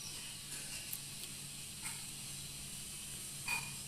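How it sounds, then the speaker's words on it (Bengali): Sugar syrup boils in a pan while orange rossogolla are made, giving a faint, steady hiss with a few soft bubbling pops close by. "দেখুন শিরা ফুটতে শুরু করেছে"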